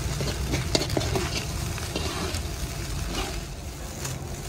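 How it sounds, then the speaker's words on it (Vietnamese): Cooked rice is fried dry with salted dried fish in a pan, giving a steady sizzle and hiss broken by scraping stirring strokes and light clatters, moderately loud and close, with no talking. "giờ mình sẽ cho cái phần cơm này mình chiên cho nó khô luôn nha các bạn ấy."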